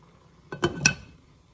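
A lid goes onto a pot of rice topped with leafy greens, making two or three quick metallic clinks close by against a quiet background.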